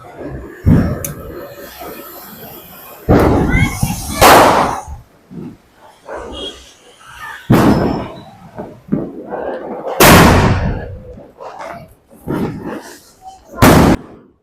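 Diwali firecrackers explode in a series of sharp, loud bangs and pops spaced a few seconds apart, with people chatting between the blasts.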